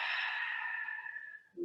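A soft, close exhale during a stretching session, a single drawn-out airy sigh that fades over about a second and a half, followed by a brief low sound.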